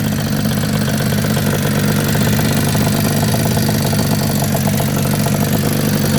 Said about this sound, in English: Little two-stroke ripper. Yamaha YCS.